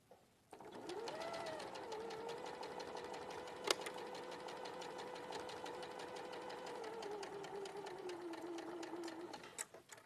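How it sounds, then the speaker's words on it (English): A sewing machine stitches flannel squares in one continuous, rapid mechanical run of evenly spaced needle strokes with a faint motor whine, nearby and quiet, starting and stopping cleanly with a single sharp click partway through. "So I'm just going to sew these."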